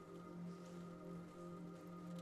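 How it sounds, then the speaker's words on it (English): Steady rain from a passing storm falls in a continuous, even patter, faint and unbroken, with a low hum beneath it and no voices. "But the rain continues, will continue for a while yet."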